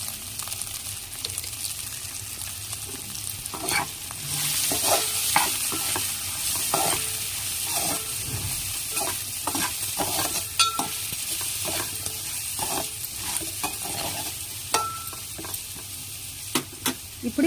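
Potato masala curry being stirred and fried in a pan with rock salt and turmeric, with a steady close sizzle and repeated scraping strokes throughout, and no talking.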